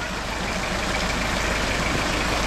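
A vehicle engine drones steadily as it drives through floodwater in a flooded city street, a loud constant rumble with a broad wash of noise and no talking.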